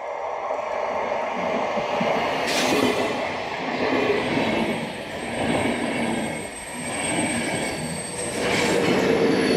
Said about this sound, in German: da kommt er ja schon, der Zug.